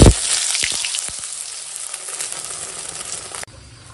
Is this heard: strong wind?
no